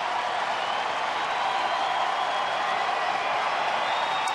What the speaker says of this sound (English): Crowd now is trying to come alive here.